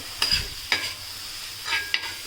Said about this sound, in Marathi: आता आपण शिमला मिरची सुद्धा कांद्यासोबतच मस्तपैकी मिक्स करून घेऊयात